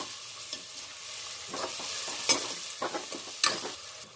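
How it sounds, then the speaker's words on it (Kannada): A spoon scrapes and stirs kabuli chana pulao in a pan while it fries with a soft, continuous sizzle. The stirring comes in close, uneven strokes with a few sharp clinks. Nobody talks. "ಚೆನ್ನಾಗಿ ಫ್ರೈ ಮಾಡ್ಕೊಳ್ಳೋಣ."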